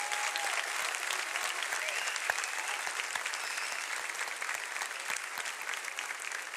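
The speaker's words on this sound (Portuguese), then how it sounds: "Eu quero uma salva de palmas bem dada para os anfitriões" A church congregation applauds the hosts of the service, with steady, dense clapping from a large crowd that carries on at an even level throughout.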